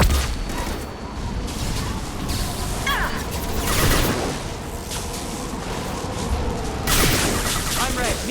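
Sustained suppressing gunfire in the Mass Effect 2 video game, with repeated loud shots and impacts across a dense, continuous combat din, punctuated by sharper bursts near the start, middle and end.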